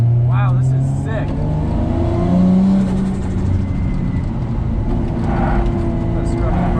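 Drift car on a dug-up race track, engine droning loud and close from inside the cabin with shifting revs and road rumble, a person talking over the noise.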